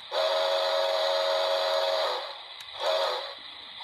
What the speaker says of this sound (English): Number 2 is the whistle.